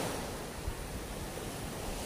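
Sea waves wash onto a shore with small, low swells, a steady broad rushing surf with light wind noise and no talk.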